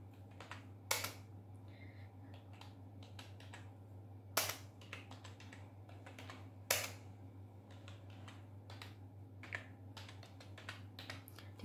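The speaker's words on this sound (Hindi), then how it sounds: "मैंने यहाँ पर जो जो आइटम लिए थे वो यहाँ पर टाइप कर लेती हूँ मैं।" Keystrokes on a computer keyboard while entering invoice items and rates into an Excel spreadsheet, sparse and irregular clicks with a few sharper taps over a steady low hum, fairly faint and close.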